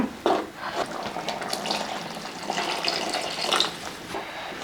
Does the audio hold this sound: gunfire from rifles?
no